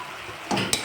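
Grated onion drops into hot oil for a katla fish curry, and a short burst of hissing and sizzling rises after a quiet start, with one sharp scrape near the end.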